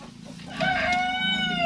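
A rooster crows close by in a chicken pen, a loud drawn-out call rising over a background of clucking fowl.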